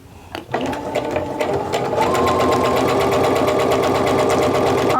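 A sewing machine stitches a quilt seam, opening with a few slow separate needle strokes before building into a steady, fast, close mechanical whirring rhythm.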